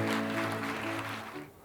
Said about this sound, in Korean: 여러분께서는 수상을 축하하는 큰 박수 부탁드리겠습니다.